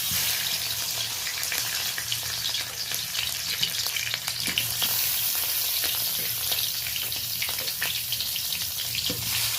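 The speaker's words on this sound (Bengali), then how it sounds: "এবার আমি মাছগুলো ভেজে নেওয়ার জন্য তুলে দিচ্ছি।" Japanese puti fish, a pond-raised fish, frying in hot oil: a steady, loud sizzle runs throughout with dense crackling, no voices.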